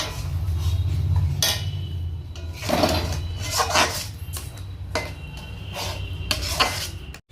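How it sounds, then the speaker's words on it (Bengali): Sugar being stirred into a paneer masala in a pan, with loud spoon clanks and scrapes against the metal coming in irregular bursts over a low sizzle. "এবার এটাও ভালো করে মিশিয়ে নেবে।"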